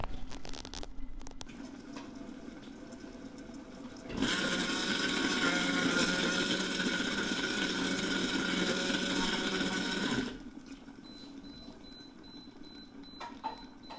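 A soup maker's built-in blender churning apples, a loud steady whirring roar lasting about six seconds, starting and stopping abruptly between quieter stretches of faint background hum.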